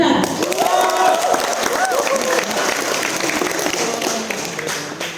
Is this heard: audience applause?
yes